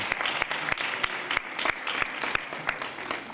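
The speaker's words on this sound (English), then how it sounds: "Let's give all of them a round of applause." An audience claps together in a room at a community citizens academy event, a dense steady patter of many hands lasting a few seconds.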